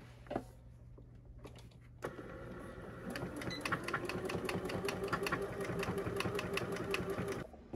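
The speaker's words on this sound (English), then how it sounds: "I'm just gonna stick it under the machine, fabric up, and do a straight stitch all the way around the edge" A sewing machine runs a straight stitch around the edge of a crochet bag's fabric lining, with a few clicks before a fast, even mechanical chatter starts and runs steadily close up until it stops near the end.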